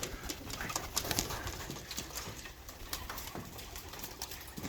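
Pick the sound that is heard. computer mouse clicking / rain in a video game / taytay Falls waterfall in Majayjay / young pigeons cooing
young pigeons cooing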